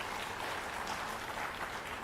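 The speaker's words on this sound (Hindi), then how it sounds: "वॉलंटियर्स के लिए जोरदार तालियां" An audience claps for Red Cross volunteers, a brief, even burst of applause at moderate volume with no speech over it.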